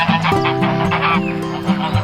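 Farmed geese honk loudly and close in a dense, overlapping chorus, with repeated nasal calls sounding continuously throughout.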